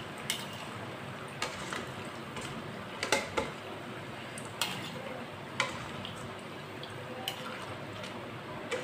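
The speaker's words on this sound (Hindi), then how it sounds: "पहले हम इसे छन्नी में डालेंगे, जो एक्स्ट्रा ऑयल है वो निकल जाएगा।" Fried aloo bare potato fritters are tipped into a metal strainer to drain oil, giving scattered light clinks and taps over a faint sizzling hiss, close by with no talk.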